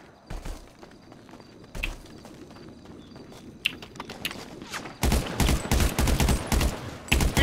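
Rapid bursts of AK rifle fire in GTA 5 Online, sparse sharp shots at first, then a dense, louder volley of gunfire in the final seconds, with no talk over it.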